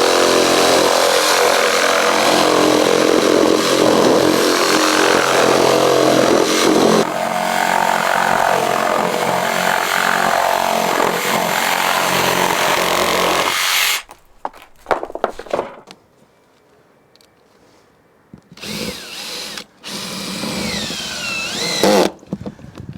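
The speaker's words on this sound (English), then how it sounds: "cutting it with the jigsaw, I think, is definitely much quicker" A jigsaw cuts through cladding boards with a loud, continuous buzzing rasp for about fourteen seconds, then stops, leaving quieter handling clatter and a few short noises.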